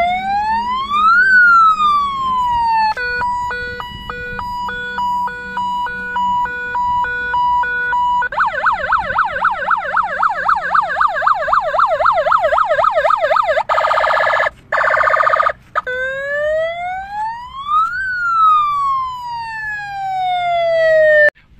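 A VIP hooter siren fitted to a Hero Splendor motorcycle runs through several loud electronic tones, including rising and falling wails, fast alternating yelps and a harsh buzzing blast, each cut off abruptly before the wail returns.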